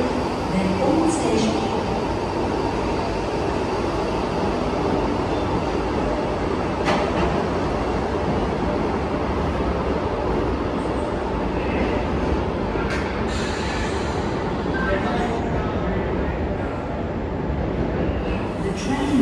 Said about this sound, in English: H49 on platform number 2, just terminated.